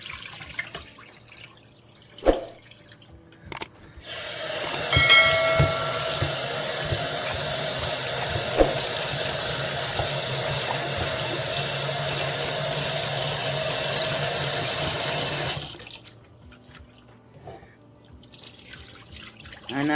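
Soaking water poured off Irish sea moss into a sink, a steady broadband splashing pour lasting about eleven seconds between quieter drips and handling sounds.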